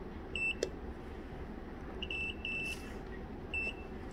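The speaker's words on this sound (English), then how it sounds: "switch off the beeper." A Bosch dishwasher's electronic beeper sounds in short, thin repeated beeps, about four in all with gaps between them, fairly faint over a low background hum of the room and no talking.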